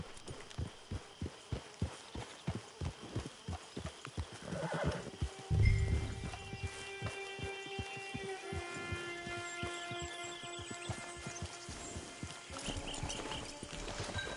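Hooves clop at a steady trot in Red Dead Redemption 2, then slow as a horse gives a loud whinny; scattered tonal sounds follow over a quiet background.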